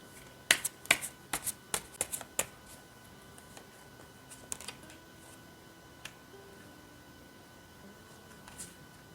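Tarot cards shuffled and handled on a table, a quick run of crisp snapping riffles and taps early on, then sparse soft flicks and clicks, close and quiet with no talk.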